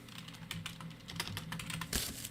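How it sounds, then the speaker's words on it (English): Quick, uneven keystrokes on a computer keyboard, a close and fairly quiet stream of clicks with no talk. "How is my typing this bad?"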